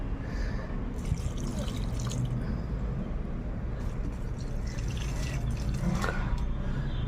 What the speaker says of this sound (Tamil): செடிக்கு தண்ணி ஊற்றுறது